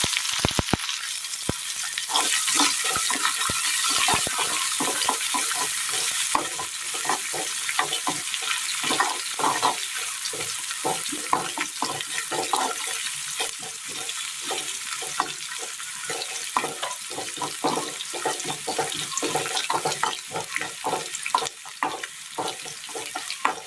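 Urad dal and chopped shallots fry in a pan for a Kerala chutney, giving a loud, steady sizzle with dense crackling and a few stirring scrapes throughout, with no voices.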